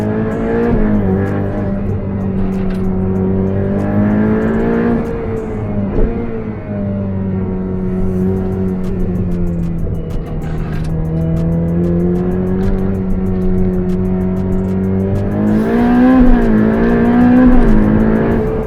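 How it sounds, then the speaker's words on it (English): A Ferrari 488 Pista Spider's turbocharged engine revs while driving, loud and close, its tone climbing and falling through the gears with steady rising and dropping pitch sweeps and no talking. "I know it's a turbo engine, but it sounds like a Ferrari"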